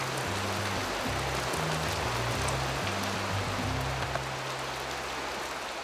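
Steady rain falls on open ground in Uganda where a family of white rhinos lives. The hiss of the downpour is continuous and even, with a low hum running underneath it.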